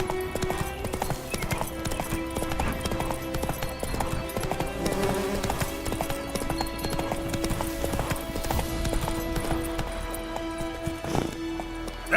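Hooves of Roach, the horse in the video game Witcher 3, clip-clop in a fast, steady gallop, close and continuous over game music, with a brief voice near the end.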